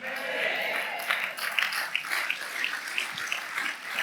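Scattered, fairly weak applause from a church audience, a thin patter of claps drifting in and out at moderate distance, with some voices murmuring through it.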